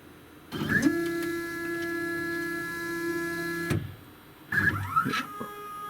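A DaVinci 1.0 AIO 3D printer moves its bed plate into position for nozzle cleaning, with a steady whining motor drone and sliding mechanical clicks, then a second short burst of movement after a brief pause.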